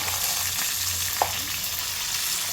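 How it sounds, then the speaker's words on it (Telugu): Chopped tomatoes fry in hot oil for a chicken curry, giving a steady close sizzle with a brief clink of stirring partway through. "ఆయిల్ వేసుకొని టమాటోస్ అయితే వేసేసుకోవాలండి"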